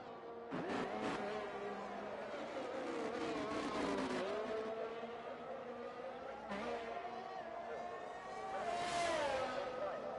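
A McLaren race car in a sim racing game on the Singapore circuit screams through its gears, the engine note rising and dropping through corners, steady and loud, with a commentator talking over it.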